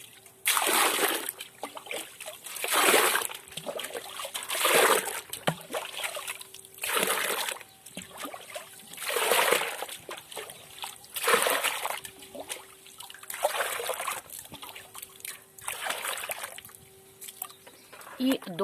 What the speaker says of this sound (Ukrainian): І тепер я буду ось, бачите, набирати повне відеречко.